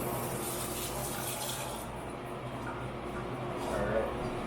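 Tap water runs steadily at a sink during hand washing in a home kitchen baking session, a continuous close splashing rush that holds level throughout, with faint background sounds.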